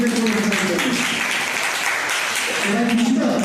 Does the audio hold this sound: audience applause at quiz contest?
yes